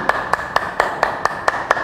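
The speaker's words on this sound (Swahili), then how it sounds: "Pigie Yesu makofi" An audience at a Tanzanian university prayer gathering claps in praise of Jesus with about eight crisp, evenly spaced hand claps at a quick steady rhythm, close and clear with no talking.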